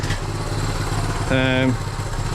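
The small engine of a 1976 Honda Z50J1 motorcycle runs rough, giving off a close, steady putter with an uneven low pulse and a short tonal whine partway through.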